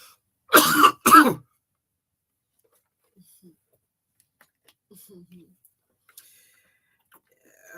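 Two harsh, close coughs in quick succession, followed by near silence with a few faint background ticks.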